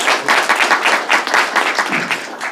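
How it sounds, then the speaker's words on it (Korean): An audience at a talk bursts into brief applause, a dense patter of many hands clapping at once that swells and fades over a couple of seconds, with no voices over it. "동의하시면 박수 한번 부탁드릴게요."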